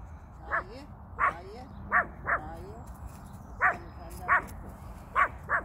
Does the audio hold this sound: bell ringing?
no